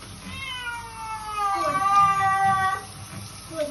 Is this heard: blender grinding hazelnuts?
no